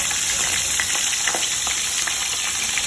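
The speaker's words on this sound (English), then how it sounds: "So, let me just let this simmer." Food left to simmer in a pan during a croaker fish catch-and-cook meal gives a dense, even hiss of bubbling and frying that runs unbroken and fairly loud, with no talking.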